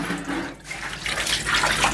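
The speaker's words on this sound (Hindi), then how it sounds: "एक मिनट के अंदर एक बकेट पानी भर के रेडी हो गया" Water from a tap pours into a bucket in a village home, a loud, close splashing gush that thickens and shifts in pitch as the bucket fills, with no talking.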